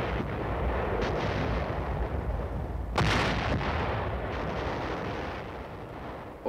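A Korean War artillery barrage fires in continuous, heavy roaring booms that blend into a dense wall of sound, with one sharper blast standing out midway, loud and unbroken by speech.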